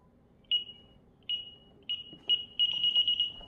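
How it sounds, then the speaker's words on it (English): A home security alarm in a living room gives clear, high electronic beeps: a few spaced single tones, then a quicker run of repeated chirps, close and loud over a quiet room. "I gotta turn the alarm off."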